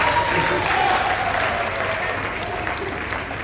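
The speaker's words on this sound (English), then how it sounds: "Another round of applause from District Director" Audience applause at a sports awards ceremony, a loud, continuous crowd clapping roar throughout, with faint voices mixed in.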